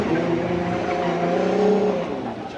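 A drift car at a Formula Drift qualifying event in Orlando holds a loud, steady engine note on throttle through the finish line, with harmonics sliding slightly as it loses momentum, heard close and alone.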